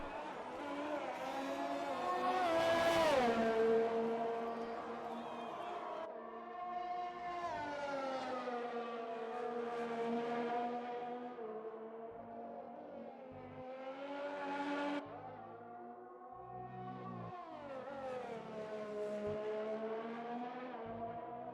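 A McLaren Formula 1 car in the F1 2020 racing game screams through shifting gears, its high engine wail rising and dipping over a long onboard run, with upshifts and braking swells and no talk.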